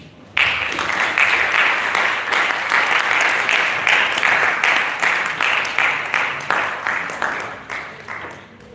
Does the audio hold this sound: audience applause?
yes